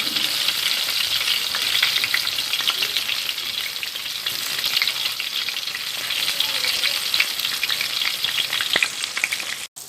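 Fish deep-fries in hot oil, producing a loud, dense, unbroken bubbling sizzle from start to end with fine crackles and no voices.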